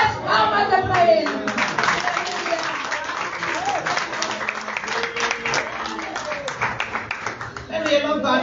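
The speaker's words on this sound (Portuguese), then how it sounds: "E as palmas é para ele." A church congregation claps during a morning worship service, steady rhythmic hand clapping through most of the stretch with voices mixed in underneath.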